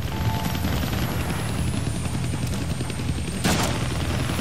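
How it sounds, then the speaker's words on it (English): Helicopter in the Deadpool video game, a steady rotor and engine drone filling the scene continuously, with a brief burst of noise partway through. "I can't kill that chopper with my guns, but I can scare him."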